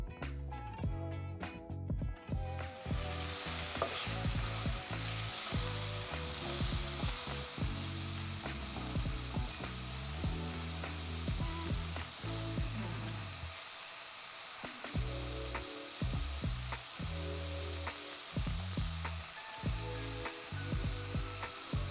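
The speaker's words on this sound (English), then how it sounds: "When the oil shimmers, add your pork chops." Pork chops dropped into shimmering hot oil in a pan over high heat burst into a loud, constant sizzle that stays close and continuous, over a bed of background music with no talking.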